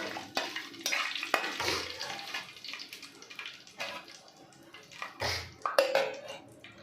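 Shahi jeera (caraway) sizzles in hot oil for chicken dum biryani, with intermittent spatter and clinks of a stirring spoon against the pan, fairly quiet and close.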